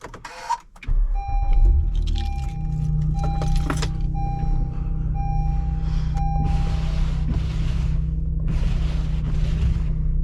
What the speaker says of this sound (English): let's get a cold start really quick